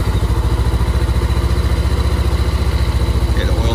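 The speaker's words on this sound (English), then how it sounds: "we're gonna start the engine and let it run for a sec" A 2019 Honda CB500X motorcycle engine idles steadily after starting, a loud, close, even rapid thrum with no talk over it.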